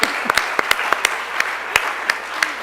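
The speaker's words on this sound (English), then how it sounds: "Can we applaud that?" An audience at an international theatre award ceremony breaks into loud, sustained applause, a dense wash of clapping punctuated by a few distinctly sharp, close handclaps.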